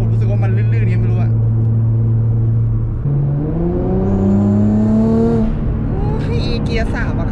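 A Nissan GT-R R35 accelerating hard on a slippery road, its engine note droning steadily and then rising in pitch as it pulls, close and loud, with someone talking over it.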